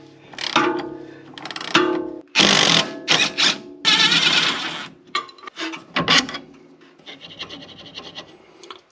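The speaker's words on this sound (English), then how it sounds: "I'm putting a 21mm wrench on this side and a 21mm socket on this side" A ratchet and a 21mm socket with a 21mm wrench turn a lower control arm bolt on a BMW X5 E70, giving bursts of rapid clicking and scraping, close and fairly loud, with short pauses between strokes.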